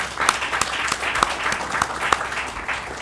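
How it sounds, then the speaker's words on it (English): An audience at a legal and human rights conference applauds, a fairly thin crowd of clapping with a few sharp, individual claps standing out in irregular rhythm, with no speech over it. "He deserves a round of applause."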